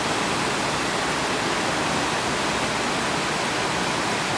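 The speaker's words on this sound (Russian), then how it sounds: "Смотрите, водопады там красиво так, да?" A Hawaiian waterfall gives off a steady, dense roar of rushing water that holds even and unbroken throughout, with no voices over it.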